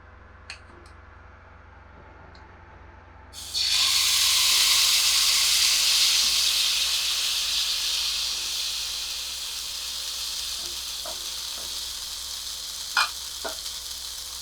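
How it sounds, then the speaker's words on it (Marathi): Ghee hits a hot griddle pan for a leftover-rice uttapam and bursts into a loud, sudden sizzle after a quiet start. The hiss then eases gradually, broken by a few faint clinks. "तवा तापायला ठेवला होता मगाशीच मी थोडंसं मी तूप घालते"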